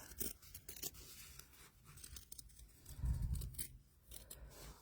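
Scissors cutting fabric from a sewing pattern, quiet close snips and rustling slides of the blades, with a soft low thump partway through.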